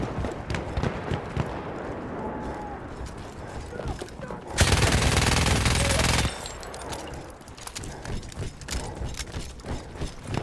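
Battlefield 1 multiplayer match with steady rifle and machine-gun fire throughout, rapid repeated shots crackling close and far, plus a loud, dense burst of sustained firing or explosion-like noise in the middle; a voice speaks intermittently.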